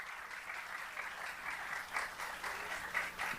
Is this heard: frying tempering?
no